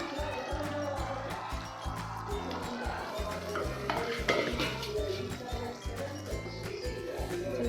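A spoon stirs aloo matar curry in a pot with repeated scraping and clinking strokes against the metal, fairly close, over a faint tonal background that sounds like soft music.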